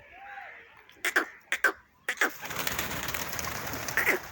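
Pedigree pigeons on a rooftop coo in a few short, close calls, then give way to a denser wash of cooing and fluttering bird sounds.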